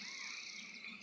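Frogs croak in a brief, faint chorus of layered calls in countryside along the California coast.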